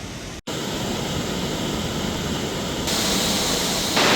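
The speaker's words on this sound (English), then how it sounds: "Coming down to the waterfall," A waterfall in Jajce, Bosnia roars as a dense, steady hiss of falling water, loud and close, briefly cut out near the start and then growing a little louder in steps.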